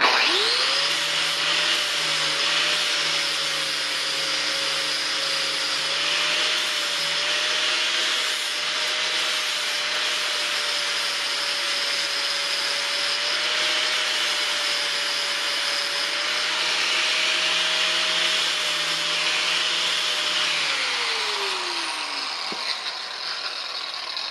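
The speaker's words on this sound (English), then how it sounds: "I'm grinding off the low spots." A grinder grinds down low spots on a damaged RZR side-by-side frame. The hiss runs loud and continuous for about twenty seconds with a steady whine, then winds down at the end.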